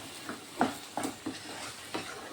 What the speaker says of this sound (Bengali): এখন একটু টক দই দিয়ে দিচ্ছি টক দইগুলো দিয়েও আমি ভালোভাবে কষিয়ে নিতে হবে